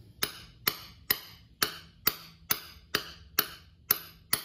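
A socket struck with a hammer to drive a countershaft seal into a 2020 Yamaha YZ250X dirt bike engine, ten evenly spaced sharp metallic taps, close and crisp in a quiet room.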